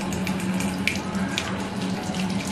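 A faucet runs steadily as children wash their hands at a sink, producing a continuous close splashing stream with no pauses.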